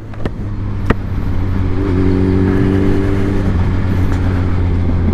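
A Suzuki B-King 1340 motorcycle accelerates on a test ride, the engine note rising into a strong, steady drone after a couple of brief knocks, loud and close throughout with no talk.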